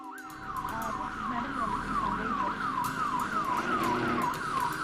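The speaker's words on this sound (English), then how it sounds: "Yes, our alarm is on and we are not able to deactivate it." A wailing electronic alarm siren sweeping up and down in a steady repeating cycle, heard from a distance over a busy outdoor background, with faint speech in the mix.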